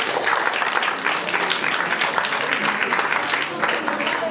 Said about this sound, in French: Avec vos applaudissements, s'il vous plaît.